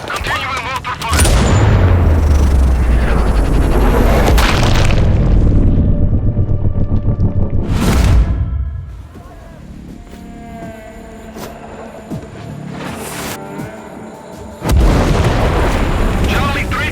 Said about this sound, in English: Continuing mortar fire.